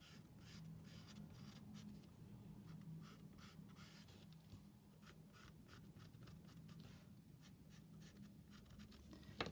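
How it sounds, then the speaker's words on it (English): A medium charcoal stick scratches steadily across paper, a soft continuous rasp with light strokes close up and quiet. "So I've got this medium charcoal stick, and I'm just drawing round the edge here."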